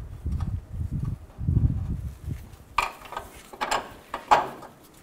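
Bolts and nuts are tightened on the idler arm of a 2000-06 Chevy Tahoe, with low metallic fumbling first, then crisp ratchet clicks and clinks of tools nearby, heard alone.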